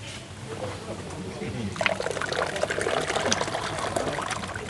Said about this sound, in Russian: Это грузинский кетчуп. Сацибели называется. Выливай.